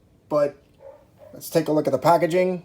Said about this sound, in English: If you hear some noise in the background, that's my dog barking.